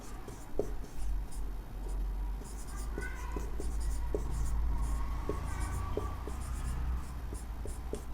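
A marker squeaks and taps across a board while terms from a fitter trade theory lesson on marking tools are written out, short scratchy strokes running under a low steady hum.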